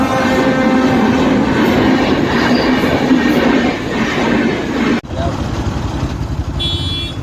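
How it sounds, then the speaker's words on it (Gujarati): A train passing a village level crossing, loud and close with steady rolling clatter of wheels, then an abrupt drop as it clears, followed by lighter ambient noise and a brief high tone. "ટ્રેન આવશે, ટ્રેન."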